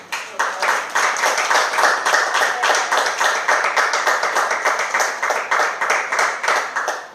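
A church congregation claps in a steady, even rhythm during a sermon, many hands striking together in a close, loud run of regular beats that holds for several seconds.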